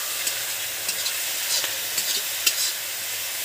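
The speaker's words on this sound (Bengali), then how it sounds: "তিল ধোয়া জলটা দিয়ে দিলাম, মশলা পুড়ে যাবে না" Spices sizzling and frying in a pan as sesame-washing water is poured in for a big sea fish recipe, with steady bright crackle and occasional stirring scrapes, close and continuous.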